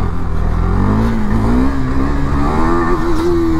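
A KTM Duke 390 motorcycle revs hard for a wheelie, its engine pitch climbing and holding in a loud, close, continuous roar with no voices over it.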